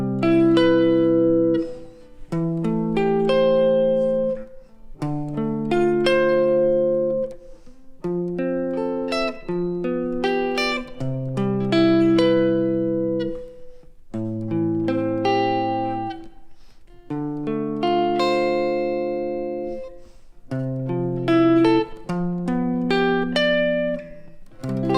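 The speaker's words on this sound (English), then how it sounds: "put them together into a chord progression using drop 2 and 4 voicings so you can hear how they might sound" A guitar plays a chord progression in drop 2 and drop 4 voicings, each chord struck cleanly and left to ring, in a slow, even rhythm with no voice over it.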